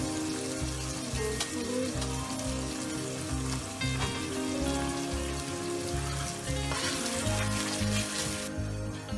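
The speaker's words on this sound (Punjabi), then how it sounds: "ਹੁਣ ਆਪਾਂ ਟਮਾਟਰ ਦੇਖਦੇ ਹਾਂ ਕਿੰਨੇ ਕੁ ਫਰਾਈ ਹੋ ਗਏ" Tomatoes fry in a pan for a Punjabi curry, giving a loud, close, continuous sizzle with crackling spatter and occasional stirring scrapes.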